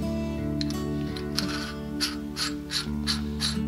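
Small metal parts of a Pexto 8014 brace nose piece ratchet and click as they are screwed together, quiet, close and irregular, with short squeaky bursts toward the end and no voices.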